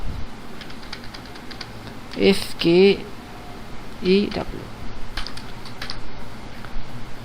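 Someone types CSS code on a computer keyboard in short bursts of close key clicks, with a few louder clusters, while a person talks over the typing.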